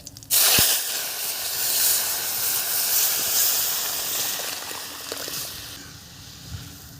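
Dal poured into hot oil tempered with dried red chillies, bay leaves and cumin in a wok, a sudden loud burst of hissing and sizzling that gradually subsides, close and without speech.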